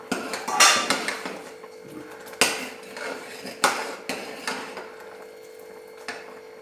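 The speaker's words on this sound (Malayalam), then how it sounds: "അപ്പോൾ അത് തുറന്ന് നോക്കിയിട്ട് നമുക്ക് ഇളക്കാം." A lid comes off a cooking pot and a utensil stirs cooked tomatoes and green chillies, giving several sharp metallic clanks and scrapes spread unevenly through the stretch against a quiet kitchen background, with no talking.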